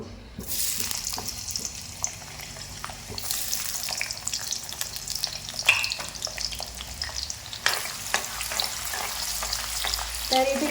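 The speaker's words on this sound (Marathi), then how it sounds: "आता मी इथे डायरेक्ट कांदा टाकून घेणार आहे" Chopped onion dropped into a hot pan for a spicy Maharashtrian sandge curry, frying with a steady broadband sizzle and frequent scraping stirs, a louder burst of crackling when it lands early on and again later; no talking.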